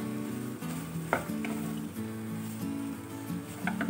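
Soya chunks roast in hot tempering oil in a pan, giving a steady, close sizzle with occasional stirring scrapes and a few sharper clicks throughout.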